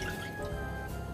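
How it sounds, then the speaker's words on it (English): Mandarin juice pours into a saucepan on the stove, a close, continuous liquid splash and dribble that holds steady for about a second without any talking. "Pour that into the saucepan."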